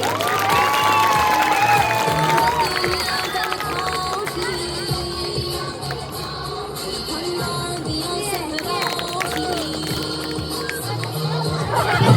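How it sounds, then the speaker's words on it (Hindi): A school crowd at an Independence Day celebration applauds a doctor with sustained clapping and cheering, mixed with busy chatter and babble that stays fairly loud from start to finish. "डॉक्टर साहब के लिए तालियां जोरदार।"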